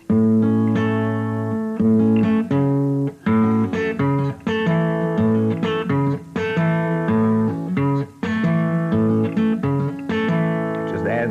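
Acoustic guitar strums a lively syncopated rumba rhythm with percussive accents, bright and continuous, played alone without talking.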